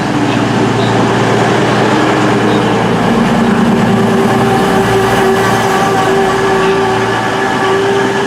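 Loud, continuous rumble of a cross-country passenger train running on rails past a junction toward Cheltenham Spa, with a sustained whine and steady rolling noise throughout.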